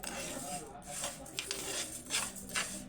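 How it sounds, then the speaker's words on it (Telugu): Urad dal being stirred while it dry-roasts in a pan until light brown for a Telugu soonundalu recipe, a steady dry scraping and rustling of lentils against the pan with faint scattered clicks, close and continuous. "ఇలా దోరగా వేయించుకోవాలి. ఇలా కలుపుతూనే ఉండాలి"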